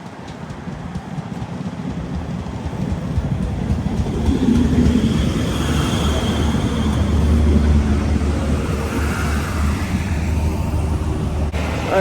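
A train rolls into a station in Northern Ireland, its low rumble and rattle building steadily from quiet to a loud, sustained roar that holds through the rest of the moment.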